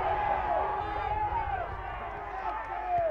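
Crowd at an AFL senior men's grand final in Capricornia reacting with a swelling roar and shouts, heard under a commentator's continuous talk.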